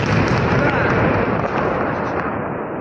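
Dense, continuous booming and crackling roar from drone strikes on oil depots in Smolensk region, like rapid explosions blending together, loud throughout, with voices faintly mixed in.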